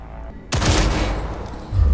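Gunfire at targets during a tactical target practice program in Cyberpunk 2077: a sudden loud burst of rapid shots that keeps rattling, close and punchy, with a heavier blast near the end.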